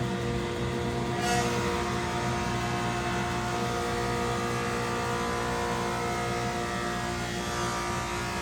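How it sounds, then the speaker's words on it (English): A woodworking machine fitted with straight knives cuts one of its first boards in a home workshop, giving a loud, continuous droning whir with a brief sharp burst near the start and no talk. "you're actually watching along with us one of the very first pieces of wood that we ever ran through this machine"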